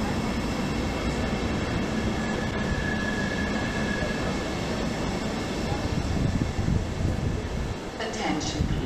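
An ÖBB Railjet train pulls into a platform at Attnang-Puchheim station, its steady low rumble and rolling wheel noise filling the scene continuously, with a faint squeal and station ambience layered over it.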